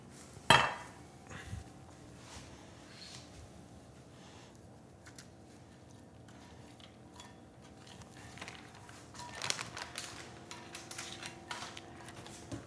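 Scrambled egg bake ingredients mixed in a bowl, faint scraping and tapping of a utensil with a sharper clink early on and a busier stretch of stirring clatter toward the end.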